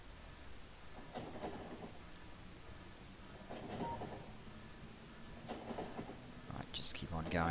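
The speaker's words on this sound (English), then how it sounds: "there's another train behind us" A train in the Factorio factory-building game rumbles past in low, swelling waves that come and go several times, faint and steady, with a higher metallic squeal near the end.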